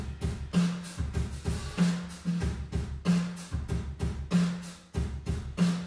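Full drum kit summed into a Chamber impulse-response reverb: a steady groove of kick, snare and cymbals with a roomy, reflective tail, close and moderately loud, no talking.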